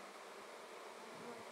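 Bees fanning at a flowerpot swarm bait hive make a steady, even buzzing hum, faint and continuous throughout the short moment.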